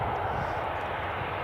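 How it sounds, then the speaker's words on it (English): A Malta Air Boeing 737 MAX coming in to land at Edinburgh Airport makes a brief, steady, distant engine rumble and hiss. "we'll see the Malta Air 737 MAX landing"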